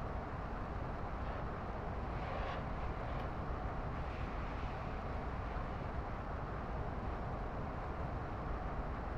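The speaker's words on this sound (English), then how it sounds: "What's that chopper landing right there?" A helicopter sets down nearby in the Call of Duty DMZ video game, its steady rotor and engine drone a continuous, moderately loud rumble throughout, with no talk over it.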